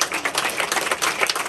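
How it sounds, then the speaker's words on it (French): Applause from an audience for the team behind a photo exhibition at its opening in Villeneuve-Loubet, a dense, steady patter of many hands clapping close by for a brief stretch, with no talking. "on peut applaudir toute l'équipe de Philippe"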